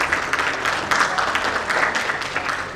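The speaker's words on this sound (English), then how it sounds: "let's have a huge round of applause for them" Sustained audience applause fills a hall at a real estate awards conclave, a dense, even wash of many hands clapping with no pause or talk over it.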